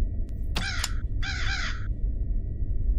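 A crow in the Granny video game lets out two harsh caws about a second apart, the first clipped and the second longer and drawn out, heard clearly over a steady low background hum.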